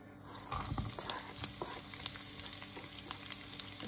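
Ginger sizzling and frying in hot oil in a home kitchen, along with garlic, onion and bay leaves, a steady close crackle with sharp spitting pops scattered throughout, no talking.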